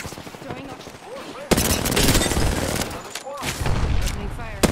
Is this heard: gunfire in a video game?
yes